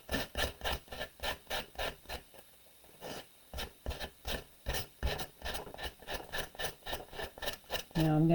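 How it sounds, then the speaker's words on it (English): Steady rhythmic scraping of sandpaper on a sanding block worked back and forth over a rock, dozens of quick strokes with a brief pause midway, fairly close. "take our sandpaper, sanding block"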